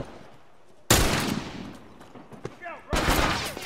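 Gunfire in a shooting video game, with two loud bursts of shots, one near the start and one near the end. Quieter game noise and a brief voice fill the gap between them.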